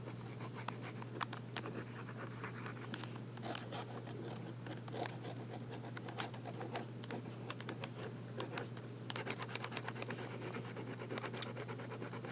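Dip pen with a nib scratching across paper, using blue ink: steady close scratching strokes with irregular tapping, over a constant low electrical hum.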